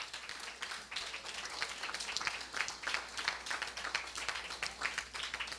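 A university audience at an MT180 thesis-presentation event claps, quiet and somewhat distant, with a busy irregular patter of individual hands continuing steadily throughout.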